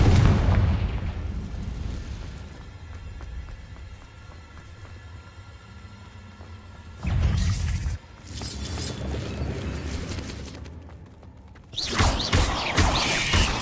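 Confringo fire spell from the Hogwarts Legacy video game erupts as a loud booming blast, followed by a second burst a few seconds later amid ambient game background sound.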